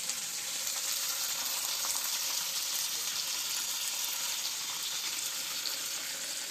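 Onions frying in a pan, a steady bright hiss and crackle of sizzling oil that holds evenly and fairly close throughout, with no voices.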